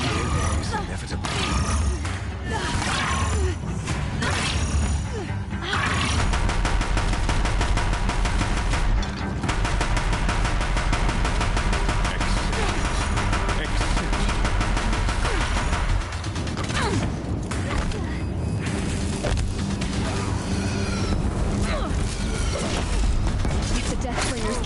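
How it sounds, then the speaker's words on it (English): Deathbringer war machines in Horizon Zero Dawn fire sustained heavy rattling bursts with metallic clanks and crashes, a dense, loud barrage running throughout with voices partly over it. "If the Deathbringers keep firing, this bridge will go."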